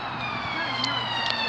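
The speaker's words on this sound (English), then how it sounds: "sorry if you can hear like a siren, that must have been a fire engine, police car or an ambulance" Emergency vehicle siren near a motorway, a wavering wail carried over steady traffic hum, fairly distant in a brief stretch, with a voice faintly present.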